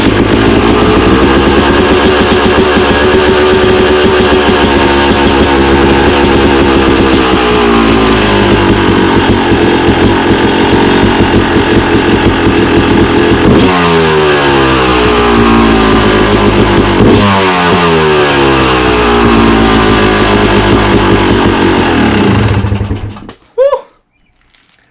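A motorcycle fitted with an FMF Turbinecore 2 exhaust and silencer idles loud and close for about twenty seconds, a steady low rumble with a couple of slight dips and blips before the engine cuts off abruptly.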